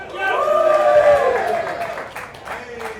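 A casino crowd cheers and claps for a poker player at Rivers Casino in Schenectady, New York, a loud burst of whoops and applause that rises quickly and then fades.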